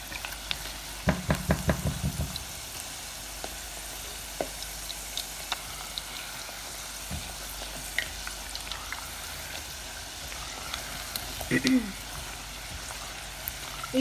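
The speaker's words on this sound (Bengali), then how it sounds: "আমি মিডিয়াম আঁচে চিংড়িগুলো ভেজে নিচ্ছি।" Prawns fry in oil over medium heat with a low, steady crackle and occasional sharper pops and clinks, heard close and fairly quiet throughout.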